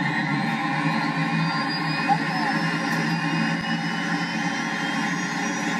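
A kerosene-fuelled turbine motorcycle engine runs with a steady, high whining drone and layered tonal hum, constant and fairly loud, with no pauses.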